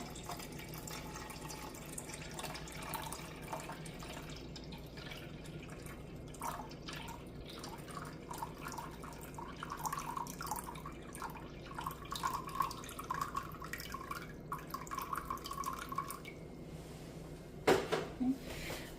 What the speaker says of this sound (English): whether you're using milk or cream, again, I'm going to pour 1 cup